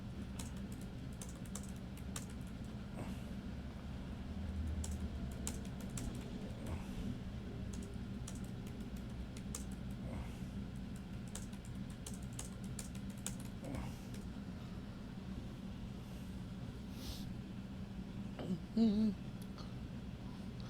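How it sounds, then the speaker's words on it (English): Quiet, steady typing on a computer keyboard runs throughout, a continuous patter of soft key clicks over a low background hum, with no voice. "I'll type that too."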